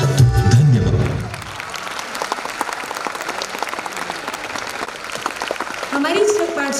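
An audience claps steadily through a children's performance event at a Jain pathshala, with a voice speaking briefly at the start and again near the end.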